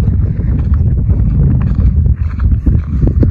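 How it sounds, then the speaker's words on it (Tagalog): Strong outdoor wind gusting into the microphone, a loud low rumbling buffet with fluctuating bursts and no clear talk. "Lumakas kasi bigla yung hangin dito guys,"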